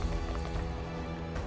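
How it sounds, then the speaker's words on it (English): Horses trample in Unicorn Overlord, a steady rush of clip-clopping hooves over game music, loud and continuous for the whole moment. "getting trampled by horses effectively."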